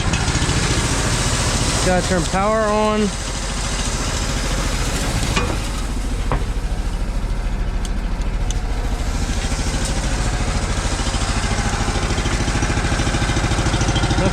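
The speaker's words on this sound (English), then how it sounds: "We will fire up the engine, let it warm up." Small engine on a farm seeder for planting barley, cranked and caught at once, then idling steadily and loudly up close with a rough, even chug, a brief voice heard over it.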